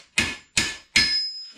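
Bicycle fender stays from a 1975 Schwinn Suburban are struck on an anvil: three loud, evenly spaced metallic hammer blows, each ringing briefly before fading.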